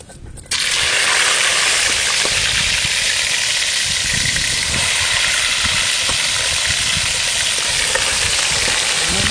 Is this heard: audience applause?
no